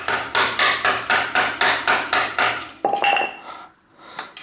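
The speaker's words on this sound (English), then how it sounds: "And then I can use my mallet to kind of tighten it up here a little bit." A mallet taps a square taper bicycle bottom bracket tight with about ten sharp, evenly spaced metallic knocks, followed by a brief ringing clank and quieter handling noise.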